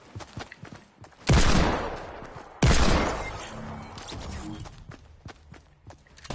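Gunfire in a first-person shooter video game: two loud, close blasts with decaying tails about a second apart, followed by quieter clicks and rustling movement sounds, with no one talking.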